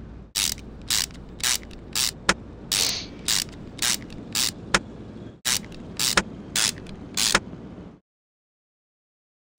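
Ratcheting and clicking of virtual tools fitting a serpentine belt, tensioner and cover in the video game Car Mechanic Simulator 21, heard as rapid bursts of mechanical clatter repeated in a steady rhythm, close and fairly loud, stopping abruptly near the end.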